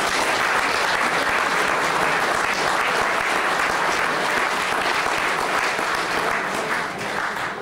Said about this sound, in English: clap loud enough, we might get a bit more.